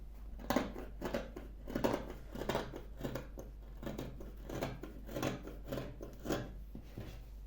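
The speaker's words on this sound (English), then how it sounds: "So cut out the first peplum" Scissors snipping through fabric while cutting out a circle-skirt peplum, a steady run of close, crisp cuts over a low background hum.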